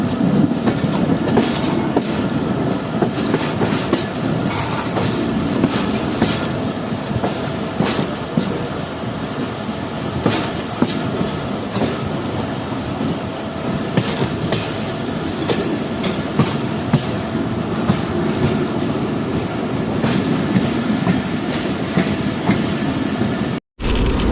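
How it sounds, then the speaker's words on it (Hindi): The Pak Business Express train runs on the main line out of Bahawalpur, a steady loud rumble with rhythmic clickety-clack of wheels over rail joints throughout, heard from on board. "और ट्रैक चेंज करके मेन लाइन पर आ गई है ट्रेन।"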